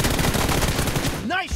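Rapid automatic gunfire from an M416 rifle in PUBG, a dense burst of shots lasting over a second, close and loud, ending abruptly.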